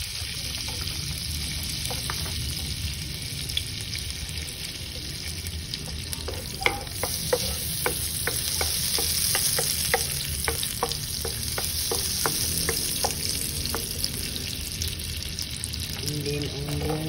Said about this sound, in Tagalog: We're gonna saute garlic.